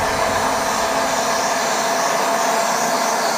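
A heater blasts hot air onto a Farmertec MS880 chainsaw crankcase being warmed for bearing assembly: a steady, loud, broadband whoosh that holds without a break.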